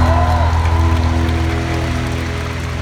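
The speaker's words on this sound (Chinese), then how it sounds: "掌声鼓励。" A large audience at a concert at the Budokan, Life Tour 2018, applauds in a dense, steady roar that stays loud throughout, with a faint sustained musical tone underneath.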